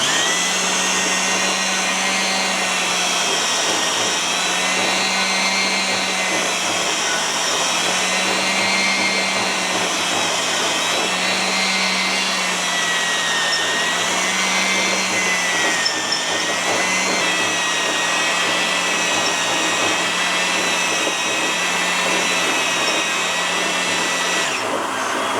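A four-sided hone works back and forth inside a Vulcan locomotive cylinder bore with light oil, driven by a steady motor whine. A pulsing low hum rises and falls with each stroke, loud and continuous with no talk.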